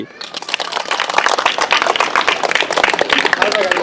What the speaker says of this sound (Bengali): সবশেষে সকলের হাত খালি এবার চাই একটি জোর করো তালি